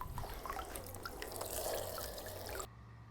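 Water gushes and splashes steadily from the outlet of a PVC pool vacuum pump, a faint continuous wash that cuts off abruptly near the end.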